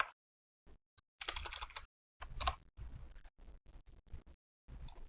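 Quiet typing on a computer keyboard into a text box, irregular clusters of soft key clicks separated by brief silent pauses, close and faint.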